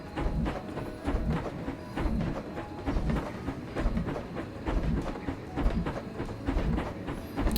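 A train running on rails in the Planet Coaster game, heard as a steady rumble with a continuous clickety-clack of wheels over track joints, fairly close and loud with no speech throughout.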